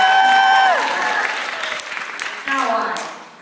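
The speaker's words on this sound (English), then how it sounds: "you clap after everything I say" A concert crowd claps and cheers in a broad, roomy wash of applause that swells and fades, with a whistle gliding down at the start and crowd voices underneath.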